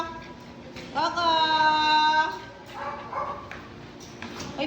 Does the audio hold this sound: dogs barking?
yes